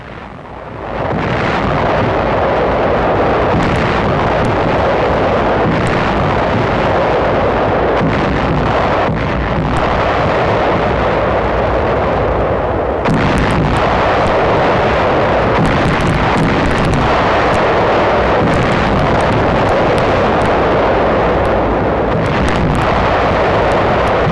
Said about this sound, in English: The attack is preceded by 9 days of intense shelling and bombing by the 5th Fleet.